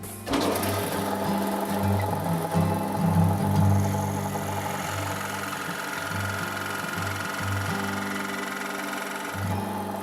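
A large 1940s Craftsman scroll saw runs steadily, its blade chattering as it cuts a kerf into a hardwood block, a continuous close mechanical hum and rattle that carries through the whole stretch without talk.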